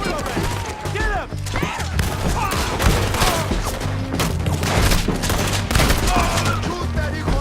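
Dense, rapid gunfire from a Red Dead Redemption 2 shootout crackles throughout, with overlapping shots and a steady low musical drone beneath, loud and continuous for the whole stretch.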